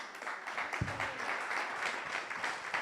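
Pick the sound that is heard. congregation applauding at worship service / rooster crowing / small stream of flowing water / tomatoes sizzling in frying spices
congregation applauding at worship service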